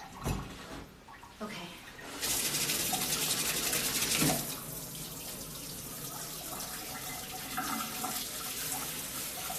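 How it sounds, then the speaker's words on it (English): Water pours from a container into a potted houseplant indoors, a gurgling, splashing stream that starts briefly, pauses, then runs steadily and fairly loud for several seconds. "now I'm gonna water this guy one last time."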